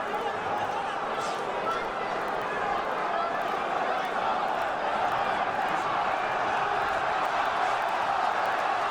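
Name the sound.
boxing crowd cheering in arena in Sheffield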